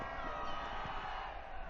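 A football crowd at an Australia Cup Round of 32 match between South Hobart and South Melbourne roars in a steady, distant wash of cheering, while a commentator talks over it.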